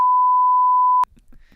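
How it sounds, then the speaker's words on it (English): A single steady censor bleep tone, loud and alone, holds for about a second and cuts off abruptly, followed by faint low mumbling. "we're going to beep that out"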